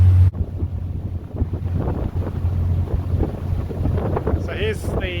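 A river cruise boat travels on the river at Wat Saman, its low engine hum steady beneath buffeting wind noise, water swish and faint distant voices, with a brief high whistle-like sound near the end.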